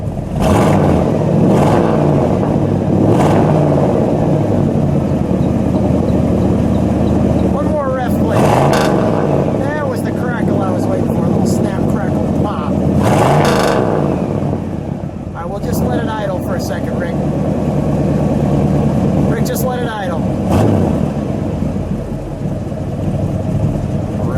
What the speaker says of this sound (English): can see the dual exhaust. Let me listen to that. Give it a good rev.